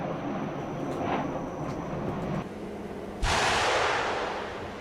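A volcano erupts with a loud, continuous rumbling roar and crackle, then a sudden heavy explosive blast near the end keeps the roar going even stronger, with no one speaking.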